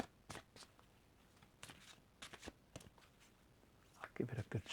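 Oracle cards from an Archangel Metatron deck being shuffled close up, with several short papery riffles and bursts spread through a quiet stretch, ending in a denser flurry of card sounds.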